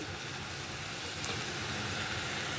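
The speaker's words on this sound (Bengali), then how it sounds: "জাস্ট একটু হালকা করে সতে করে নেওয়া, একটু ভেজে নেওয়া" Rice being lightly sautéed and fried in a pan for Bengali bhaat bhaja, giving a steady, even sizzle and hiss that runs the whole time with no voices over it.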